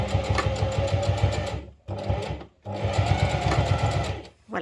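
A sewing machine stitches the seam of a fabric basket lining, running in two long, steady bursts with a brief pause between, close and loud with a rapid mechanical thrum.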